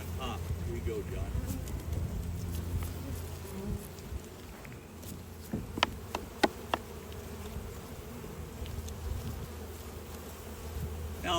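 Honey bees buzz densely and continuously around hive frames as honey is pulled, with a few sharp knocks and clicks of equipment partway through.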